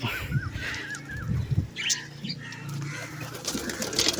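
Pigeons cooing softly nearby, with a brief flutter of wings and a few faint chirps over a low background hum.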